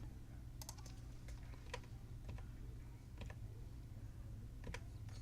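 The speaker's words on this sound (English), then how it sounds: "you can also use the arrow keys on your keyboard" Keys on a computer keyboard tapped in short scattered presses, some in quick pairs, faint and close against a steady low room hum.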